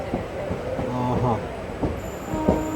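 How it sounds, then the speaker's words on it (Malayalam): Train rumble and wagon clatter from another train running along the opposite line, heard from inside an Intercity Express stopped at a station, with steady rolling noise, a few brief tonal squeals and faint talk underneath. "ഓപ്പോസിറ്റ് ലൈനിൽ കിടക്കുന്ന ട്രെയിനിന് വേറെ വണ്ടി ഓവർടേക്ക് ചെയ്തും പോകുന്നുണ്ട്"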